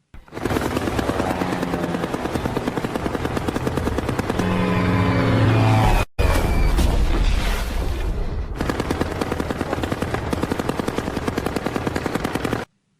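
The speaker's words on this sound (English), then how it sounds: "a German fighter plane suddenly approached" A German fighter plane approaching in a war film: a loud, continuous rapid pulsing drone like a propeller engine or rattling gunfire, with a short break in the middle before it resumes steadily.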